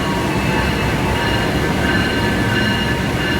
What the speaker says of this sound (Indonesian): dari arah Surabaya di jalur 5 masuk kereta api Sancakat